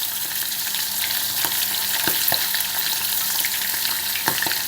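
Halloumi cheese sizzles and fries in a pan, a loud steady crackling hiss with occasional sharper pops and stirring taps as the pieces are turned.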